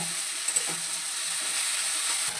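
Brinjal fries in oil for a Bengali chorchori, a steady bright sizzle with a couple of light clicks and scrapes of stirring, no talking.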